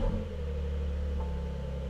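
A Porsche with a very loud muffler rumbles and revs in a steady, deep drone that holds strong throughout.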